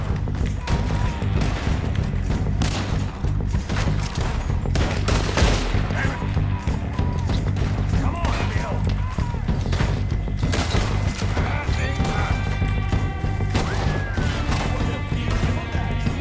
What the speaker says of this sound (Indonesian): Headshot. Ini memang cowboy ya, memang senjata bernuansa cowboy ya.